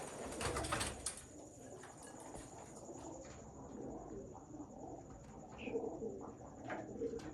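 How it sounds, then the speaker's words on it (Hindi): Pigeons cooing among a flock of Uddiya flying pigeons in a breeder's loft, soft repeated coos over a steady background murmur with a few faint rustles and chirps. "ये मेरा उड्डिया कबूतर जो बहुत अच्छा उड्डिया कबूतर मामदीन कबूतर है।"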